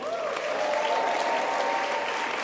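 A crowd in Melbourne at a climate strike rally cheers and applauds, a dense, sustained roar of clapping and shouting that carries loudly from start to finish with no break.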